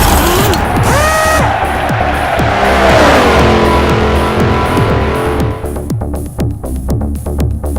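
A race car in Forza Motorsport 4 loses control and slams into a wall: loud engine howl with sweeping pitch and tire squeal, followed by rattling, sputtering mechanical noise as the car comes to rest. No one speaks.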